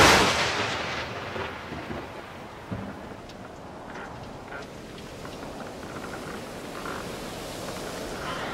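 A stormy sea under a thunderstorm, with wind gusting. A loud, broad roar opens and then settles into a continuous rushing wash, broken by scattered dull rumbles and cracks.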